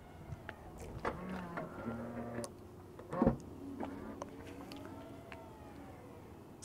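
Electric motor whir of a Tesla Model Y's powered trunk lifting, a rising mechanical hum with a soft clunk midway, fairly quiet and close.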